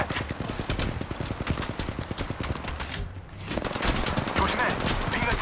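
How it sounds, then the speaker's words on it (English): Rapid bursts of automatic gunfire crackle in Apex Legends Mobile, dense close-range volleys that pause briefly midway before resuming at full intensity. "Getting shot at. Taking fire."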